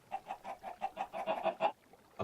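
Chickens in the Minecraft modpack Sky Factory 3 cluck in a quick run of about a dozen short clipped notes, then one final cluck after a brief pause, close and fairly soft.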